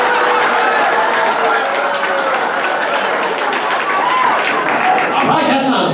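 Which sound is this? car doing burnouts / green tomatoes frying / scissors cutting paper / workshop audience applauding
workshop audience applauding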